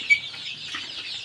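Native village chickens cluck softly at close range, a low continuous murmur of clucks with one brief, sharper call near the start.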